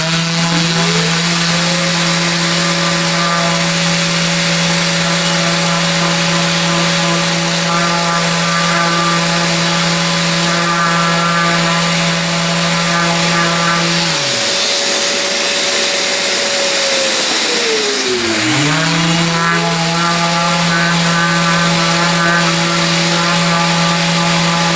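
A power sander works over a laser-engraved MDF puzzle box with a loud, constant droning whine. Midway the pitch sags as the tool bogs down under pressure, then it recovers. No voices are heard.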